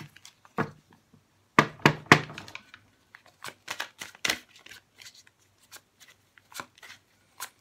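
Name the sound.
shuffling Thelema tarot cards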